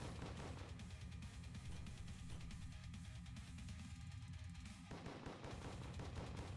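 Rapid gunfire and bullet impacts in a Game Maker jam game, a dense, continuous barrage of crackling shots that carries on without a break and sounds close and loud.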